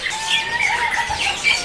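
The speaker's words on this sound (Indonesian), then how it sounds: "tersedia juga untuk yang gacoran dari jenis burung kenari loper, baik yang warna cerah ataupun yang warna gelap" Loper canaries at a bird market stall give high, thin chirping calls and short rising whistles, continuous and fairly close, with no talk.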